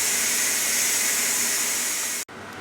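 Steam rushes out of a Ninja Foodi Max 7.5-litre pressure cooker as a steady, loud, broadband hiss for about two seconds, then cuts off abruptly into near quiet.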